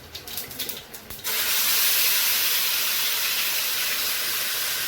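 A paste of green chili, onion, garlic and ginger hits hot oil with cumin in a pan and erupts into a loud, steady sizzling hiss that holds for several seconds after a short lead-in of quieter clatter.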